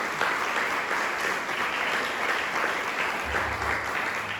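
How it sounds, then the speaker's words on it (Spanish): Applause from a church congregation praising God during a service, dense and steady throughout with no talk over it. "Démosle un aplauso a ese Dios maravilloso"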